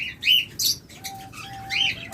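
A breeding pair of two-year-old pet birds chirps nearby in short, bright bursts, with a few tweets separated by brief pauses.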